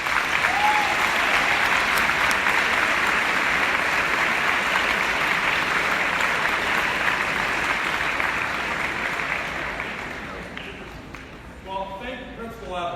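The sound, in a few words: applause for the Iowa Department of Education Director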